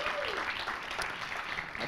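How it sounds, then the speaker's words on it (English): An audience applauds at the Intrepid Museum during the West Side Summit State of the District Address, a steady wash of clapping from a crowd, fairly loud and continuous through the short stretch. "A big round of applause for the Intrepid and their leadership here."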